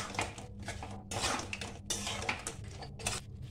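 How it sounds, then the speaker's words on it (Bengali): Chilli baby corn being stirred in a pan, a close series of scraping and clattering bursts of spoon against metal with brief gaps between strokes, no talk. "এবারে এগুলো একটু নাড়াচাড়া করে নেব"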